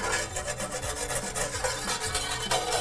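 White wine whisked into a pan of browned bits for gravy: a quick, rhythmic scraping and swishing of a whisk against the pan with a faint sizzle beneath, close and steady.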